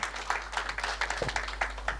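Audience clapping at a company speech event, irregular claps at moderate distance, fairly faint and brief, with a low hum underneath.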